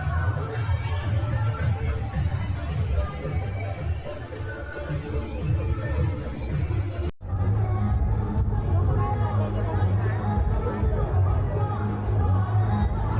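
Evening crowd chatter builds at a Godakath festival food stall in Kopargaon: a dense, steady babble of many voices over a low hum, continuing throughout with one brief dip partway through.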